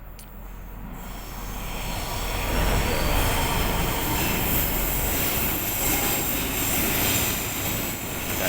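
Train passing nearby, a loud rumbling roar that swells after the first second and holds steady to the end, with no voices.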